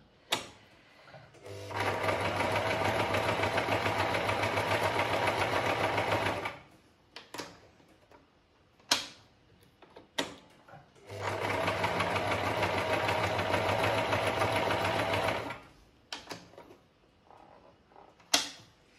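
Privileg Super Automatik sewing machine stitching with a twin needle: two loud, steady runs of rapid mechanical whirring and clatter, each a few seconds long, separated by quiet handling clicks and knocks.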